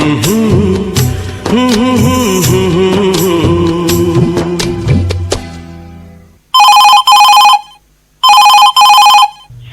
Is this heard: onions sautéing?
no